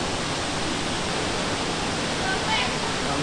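A waterfall roars in a broad, steady wash of noise, close and loud throughout, with a faint voice briefly surfacing near the end.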